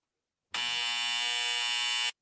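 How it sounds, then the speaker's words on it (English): A single flat electronic buzzer blares for about one and a half seconds, loud and steady, cutting off abruptly with silence around it. "Let me get back to my buzzer."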